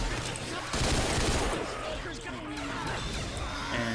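Rapid bursts of gunfire in Left 4 Dead 2 clatter through a busy, noisy game scene, loud and fairly close, with people talking over the shooting.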